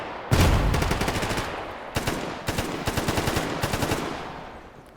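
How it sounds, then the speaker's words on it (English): Automatic weapon fire in the shooter game Stalker Gamma, several loud bursts of rapid gunshots separated by short pauses, close and echoing, no talking. "Grenades being thrown too?"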